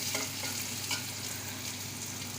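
Onions sautéing in a pan for a spinach and moong dal dish, a steady loud sizzle with brief scraping stirs near the start.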